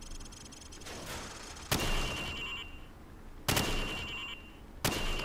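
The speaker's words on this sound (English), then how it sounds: "Now, shoot at the targets while firing from the hip." Gunfire at training targets in Call of Duty 4: three sharp, loud shots or short bursts spaced well apart, each trailing into a ringing decay, with no voices.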